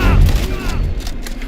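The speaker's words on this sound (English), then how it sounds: "It's shooting time!" Gunfire in an Indiana Jones game: a loud close burst of shots opens, with a booming tail and scattered further cracks fading over a second and a half.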